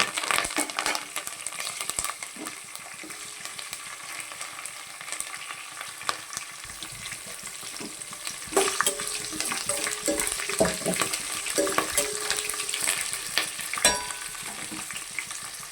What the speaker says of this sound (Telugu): ఈ తాలింపు వేగిపోయింది